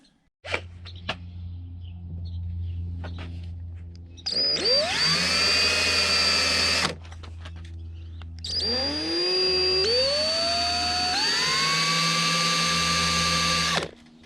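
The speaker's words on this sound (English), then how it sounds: "my plan of attack to drill the hole is not going to work." Two long bursts of a power drill drilling a Jeep Wrangler tailgate hinge pin, each revving up to a steady high whine and grinding, over a constant low hum in the background.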